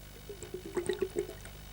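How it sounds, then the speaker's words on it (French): Fishing bait in a soluble bag dropping into water, giving a short run of faint wet plops, squishes and drips lasting under two seconds. "Dès que votre appât avec le sac soluble touche l'eau,"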